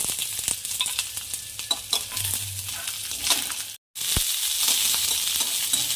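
Chopped onion roasting in oil alongside peanuts for a village-style ridge gourd curry, a steady crackling sizzle with occasional spatula knocks, briefly cut to silence near the end before the frying resumes just as loud.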